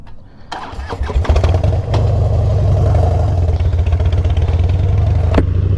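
A Harley-Davidson Dyna motorcycle engine fires up and revs hard in a loud, sustained roar while drifting, with a steady throaty rumble and brief throttle surges, close and alone with no talk.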